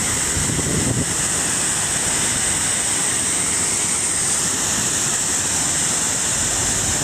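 A waterfall pours and splashes in a loud, continuous close-up roar of broadband water noise that never lets up, with no talking.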